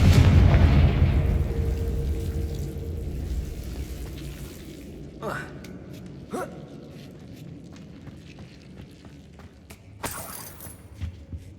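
Magical spell explosions from Bombarda and Confringo in the video game Hogwarts Legacy: a loud rumbling blast that slowly decays, followed by a few sharp, fainter cracks and pops spaced several seconds apart.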